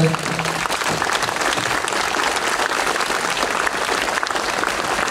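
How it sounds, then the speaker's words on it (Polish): A crowd applauds award recipients at a jubilee ceremony honouring distinguished residents of Kłaj, sustained dense clapping from many hands at a loud, even level, with faint voices mixed in beneath. "będą wielkie brawa dla wszystkich nagrodzonych, dla nagradzających"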